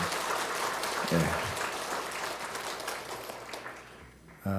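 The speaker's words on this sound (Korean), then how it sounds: "다시 한 번 박수로 우리 축복하겠습니다" A church congregation applauding during a Sunday worship service, a steady wash of clapping that fills the space evenly and then fades, with a faint voice underneath near the end.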